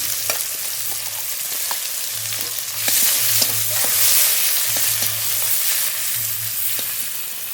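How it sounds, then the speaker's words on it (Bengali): Chopped onions fry in mustard oil with whole cumin and bay leaf, a loud continuous sizzle with intermittent scraping strokes of a spatula close by. "পেঁয়াজ বেশ হালকা করে ভেজে নিয়েছি"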